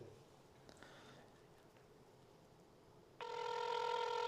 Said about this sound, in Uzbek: hozirda gudok ketmoqda